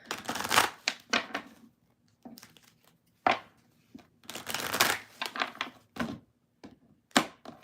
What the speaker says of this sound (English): I say that, but I'm still shuffling.